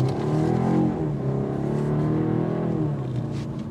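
A 2025 BMW 430i Gran Coupe with the B48 engine pulls hard under acceleration, its exhaust droning and rising steadily through the gears at close range, loud and continuous with no talking.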